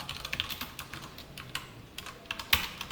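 Fast typing on a computer keyboard during a Java programming lesson, a close, steady patter of key clicks with a sharper keystroke near the end and no talking.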